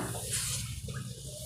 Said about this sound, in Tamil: இப்போ நாம் தண்ணி சேர்த்துடலாம்